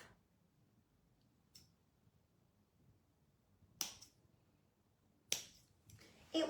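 Scissors snipping off a tied thread: a few sharp, isolated cuts spaced several seconds apart in a quiet room, close and crisp.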